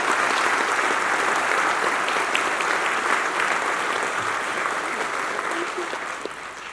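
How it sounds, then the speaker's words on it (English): Steady, dense applause from a large audience at an outdoor heroes recognition ceremony in Coronado, sustained throughout and slowly tapering toward the end. "Would you please give them a round of applause?"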